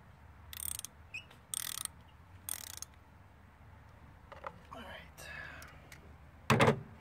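A 3/8 drive ratchet fitted with a 5/8 inch spark plug socket works on a 2012 Ford Fusion engine, giving several short bursts of close ratcheting clicks separated by pauses, with a faint clunk or two between them.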